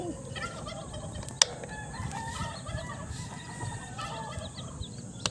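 A rooster crows outdoors beside a fishing spot. Several clucking, crowing calls rise over rustling ambient noise, with a sharp click partway through, and no clear talk.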